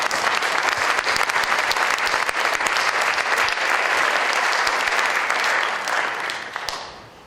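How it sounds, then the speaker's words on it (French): An audience at a university debate on refugees applauds a panel coming on stage, loud, dense clapping that holds steady and then thins out toward the end. "Applaudissez-le."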